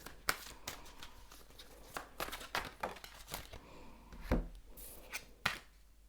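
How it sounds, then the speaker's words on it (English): Tarot cards shuffled by hand in a quiet room, giving soft papery riffles and sharper taps in an irregular rhythm, close and fairly faint. "I'm gonna shuffle and see if there's any more, you know, information about what this person thinks of you."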